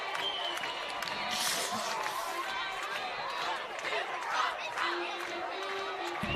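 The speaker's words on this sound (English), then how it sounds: "This homecoming crowd is all pumped up for sure." A high school football homecoming crowd in a stadium cheers and chatters in a dense, continuous wash of noise, with swells of excitement rising and falling. Closer voices talk over it.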